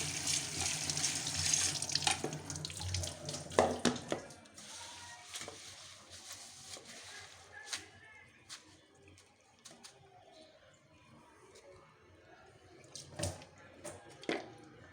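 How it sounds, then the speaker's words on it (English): Water splashes and runs in a metal container, sloshing at first and then dropping to scattered trickles and clinks, fairly quiet. "take some water and rinse it and wash it eventually for 2 minutes"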